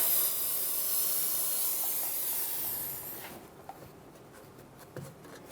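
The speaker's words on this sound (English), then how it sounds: "We'll get some brake clean that area, and the line going into the caliper." Brake cleaner sprayed on the brake line and caliper of a 2013-2018 Toyota RAV4: a loud, steady aerosol hiss runs for about three seconds, then stops, leaving a quiet space with a few small clicks and taps.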